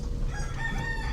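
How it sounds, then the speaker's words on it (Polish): A single rooster crowing on a French Polynesian island, a brief faint call heard at a distance over low background noise. "Podobno są same koguty tutaj pieją na wyspach."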